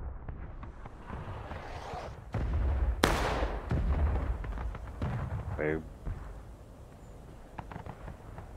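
Cannon artillery booms in War of Rights, a heavy blast followed by a rolling rumble, with scattered musket-like cracks and players talking throughout.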